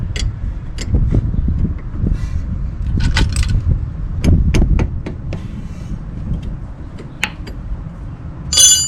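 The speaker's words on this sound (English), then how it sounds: "While the caliper is still mounted, I'm going to loosen up the bleeder screw." Metallic clicks, taps and scrapes of a wrench working the bleeder screw on a rear brake caliper of a 2009 Toyota RAV4, irregular and close, over a low background rumble.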